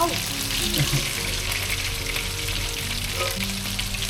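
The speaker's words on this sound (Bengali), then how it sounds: "বেশ মন ভরে বাটার, তেল, ঘি দিয়ে রান্না করছি।" Chicken fries in butter, oil and ghee, a loud, steady close-up sizzle with occasional stirring clinks and no talk.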